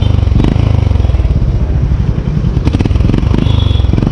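A Honda CB350 RS motorcycle engine idles and revs close by, its exhaust giving a loud, steady pulsing beat that rises in a couple of brief blips.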